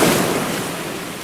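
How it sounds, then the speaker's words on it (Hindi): Sea waves break on a shore near a building's premises, a steady broadband wash of surf that stays fairly loud and continuous throughout, with no voices heard. "हमारे प्रेमिसेस के पास में ही समंदर है"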